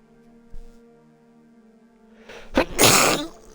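A single loud sneeze bursts out near the end, close and alone, after a quiet stretch with a faint hum and a brief thump.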